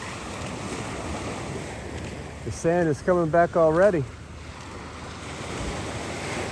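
Ocean waves wash steadily on a beach in Antique, Philippines, a constant broadband surf with wind buffeting the microphone, while someone speaks briefly in the middle.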